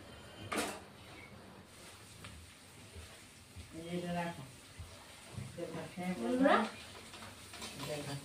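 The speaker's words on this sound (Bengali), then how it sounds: "এবার মশলাটা, টমেটোটা পুরাটা কষিয়ে নেব।" Spice paste with tomato is stirred and fried in a pan over raised heat for a mustard rohu fish dish, with scraping stirs and a soft sizzle under occasional talking.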